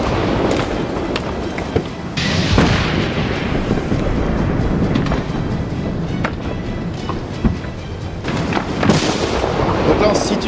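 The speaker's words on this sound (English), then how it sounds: "the flames quickly spread, triggering a series of explosions due to the pressure from gas cylinders on the vehicle" Gas cylinders on a burning vehicle burst in a rapid series of loud, booming explosions. Cracks and thuds come at irregular intervals over a continuous roaring, crackling fire.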